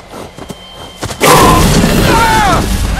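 A gunshot in the horror game Until Dawn bursts out loud and close after faint rustling, leaving a long booming roar with ringing tones that carry on to the end.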